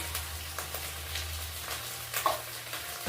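Chili and turmeric powder frying with tomato in a pan for a prawn curry, a steady close sizzle broken by periodic scraping stir strokes, with no voices.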